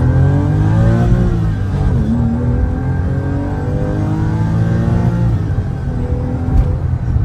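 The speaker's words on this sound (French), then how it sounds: "Le bruit d'admission est incroyable." Porsche with the X51 performance pack accelerates hard, a loud, close engine and intake roar whose pitch climbs steadily, dips with a gear change, then rises again and holds.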